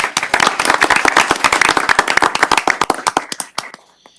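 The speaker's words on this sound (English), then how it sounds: "please join me in an applause for Tiffany." Audience members at a city council meeting clap in a brief burst of sharp, crisp applause that thins out and stops after about four seconds.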